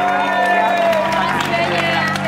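Studio audience applause and cheering for a singer on an Indonesian TV comedy show, a dense steady wash of clapping and crowd noise with music tones underneath.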